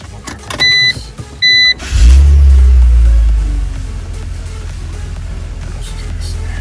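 A BMW E85 car engine cranks and catches after a few short electronic beeps, then settles into a loud, steady idle close by.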